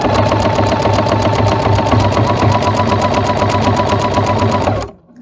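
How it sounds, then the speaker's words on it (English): A sewing machine stitching a quilt runs steadily and loudly for about five seconds with a fast, even mechanical rhythm, then stops abruptly near the end. "you just want to focus on keeping your stitch in the same place as you're sewing"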